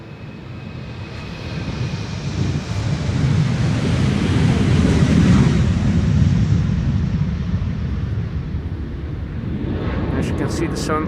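Airliner jet engines spool up for departure at Amsterdam Schiphol on runway 36L, a broad rumble swelling to a loud peak mid-way and then easing slightly, with a voice talking over it.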